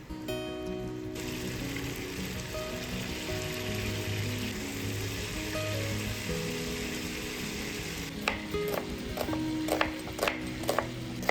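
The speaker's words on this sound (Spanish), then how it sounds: "La pongo a sofreír con un poquito de sal y pimienta" Meat sautés with salt and pepper in a pan, giving a steady, even sizzle throughout, joined near the end by a few sharp clinks and scrapes of utensils against the pan.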